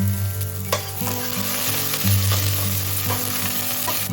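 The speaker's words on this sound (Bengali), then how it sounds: "প্যানে অল্প সাদা তেল দিয়ে দিয়েছি রসুন কুচি অ্যাড করে দিলাম আর তার সাথে স্কেলিয়ান্সের ওই পেঁয়াজের পোর্শনটা দিয়ে দিলাম" Chopped garlic and scallions fry in a little white oil in a pan, a loud continuous sizzle up close with occasional stirring knocks, with no one talking.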